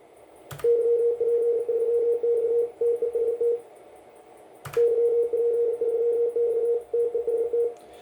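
Radio 2 transceiver tone carried over an Ethernet link: two sustained electronic tones, each opening with a sharp click and running for about three seconds with brief breaks, steady and clear.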